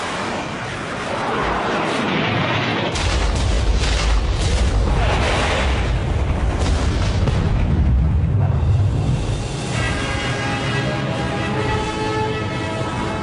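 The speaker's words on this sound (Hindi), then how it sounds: "मिसाइल आ रही हैं।" Incoming missiles explode in a dramatic film scene: a deep rumbling boom swells and rolls on for several seconds, then fades into a lingering debris-like hiss and crackle, loud and without talk.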